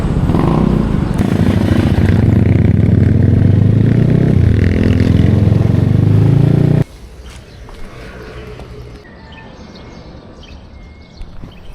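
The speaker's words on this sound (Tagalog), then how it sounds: "Kunin ko lang yung motor." A motorcycle engine runs loudly and steadily nearby for several seconds, then cuts off, leaving quieter outdoor background with faint birds.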